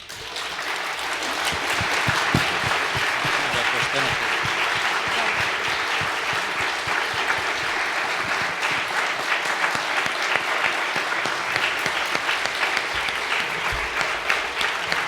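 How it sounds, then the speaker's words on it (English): A lecture audience breaks into long, sustained applause, a dense, even wash of clapping that swells quickly and holds steady, loud and close, for over ten seconds. "that was a big applause"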